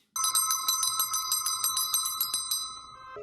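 A small bell rings in a quick, steady series of bright metallic strikes, about a dozen in three seconds, close and clear with a sustained ringing tone underneath.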